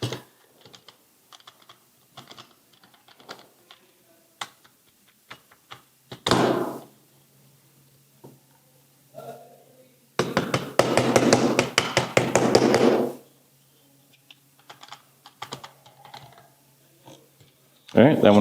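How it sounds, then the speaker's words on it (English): Walther PDP pistol struck with sharp, scattered taps and knocks, then a dense burst of rattling metal clicks as the slide is worked back and forth, close and fairly quiet. "We'll give it some good whacks. Okay, manipulate the slide."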